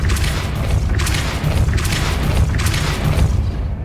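A Repulsor spell cast in Hogwarts Legacy, with loud, booming magical blasts that swell and fall in repeated pulses roughly every second over a dense rumbling background.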